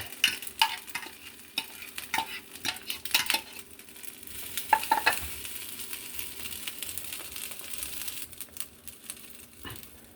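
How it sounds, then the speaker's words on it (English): A rice and egg mixture sizzles in a hot oiled pan with a steady frying hiss, while a utensil scrapes and stirs in quick, irregular strokes near the start and middle. The hiss continues alone afterward, with no talk. "pour the rice and egg mixture into the pan and spread it out evenly."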